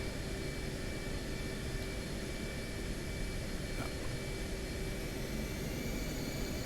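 Jet aircraft engine idling on an aircraft carrier deck in a flight video game, a steady, loud broadband roar with a constant whine, unchanging and without talk.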